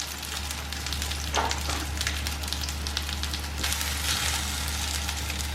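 Banana rolls with coconut and jaggery filling frying in about a teaspoon and a half of ghee in a pan, giving a steady close sizzle with soft crackles and a low background hum throughout, no voices.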